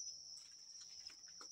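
Crickets chirp inside a cage, a steady, high, continuous trill that holds without a break, with no voices present.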